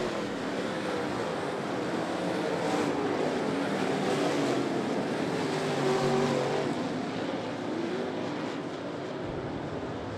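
Modified race cars roar around a dirt speedway oval during the final lap of a heat race, a dense, continuous engine drone with rising and falling waves as the pack passes, loud and steady without a break.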